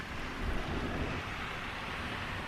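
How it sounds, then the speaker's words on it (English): Wind gusting steadily through an open back door on a windy day, a broad continuous rush with a slightly stronger swell near the start, with no talking. "I have the back door open, the wind is just guzzling through."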